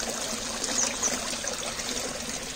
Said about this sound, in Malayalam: അതിൽ നിന്ന് വരുന്ന വെള്ളമാണ് ഈ വീഴുന്നത്